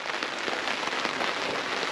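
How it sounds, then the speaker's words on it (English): Rain drums steadily on a tent canopy pitched beside a VW California camper in the Burgundy vineyards, a dense, even patter that continues without a break and with no voices. "then it started raining"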